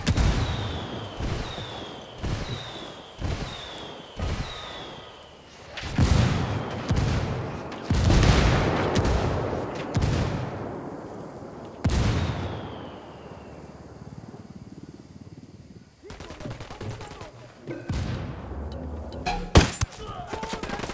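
Indirect artillery fire lands in the Ghost Recon Wildlands video game. It starts with a rapid series of sharp shots, then heavy booming impacts roll in one after another, with rumbling decay and scattered crackling blasts afterward.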